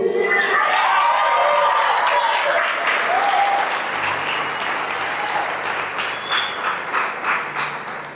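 A church congregation at a Portuguese-language service applauds warmly, with a thick, sustained wash of clapping that slowly eases over several seconds. A few voices and cheers rise within it.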